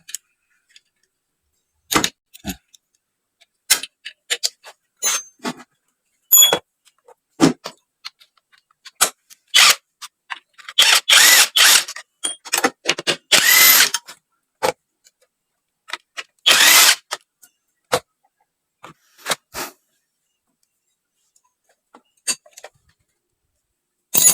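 Radiator bolt worked loose on a Honda Vario 125 scooter, a series of scattered sharp metallic ratchet clicks and clinks in short bursts with quiet gaps between, close by, no voices.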